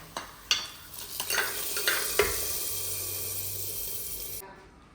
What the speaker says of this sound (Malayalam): അപ്പോൾ നമുക്ക് ഇതിലേക്ക് കുറച്ച് കടുക് ഇട്ട് കൊടുക്കാം